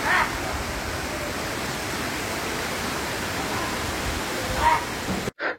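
Shoilo Propat waterfall in Bandarban, a cool clear-water fall near town: a constant broad roar of rushing water filling the whole stretch, steady and close, cutting off abruptly near the end.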